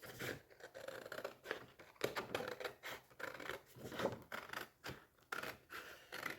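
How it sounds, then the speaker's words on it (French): Scissors cut through a sock in close, quiet snips that come as a rapid run of short scratchy cuts with brief pauses between them, with no talk. "Donc, je coupe."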